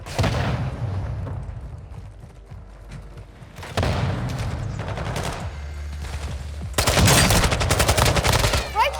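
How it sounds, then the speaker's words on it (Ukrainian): Gunfire and RPG blasts in a Call of Duty Warzone 2.0 DMZ match: dense bursts of automatic fire and booming shots come in three waves, loudest and harshest near the end, with faint game voice lines in places. "Один ще з РПГ стріляє."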